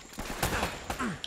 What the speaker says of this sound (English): Shooting at you too, you know.